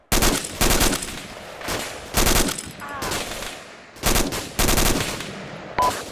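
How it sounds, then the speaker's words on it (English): Machine gun fire in the video game Arma 2 comes in several loud, sustained bursts separated by short pauses, with a faint voice briefly underneath. "Suppress that machine gun in the smoke."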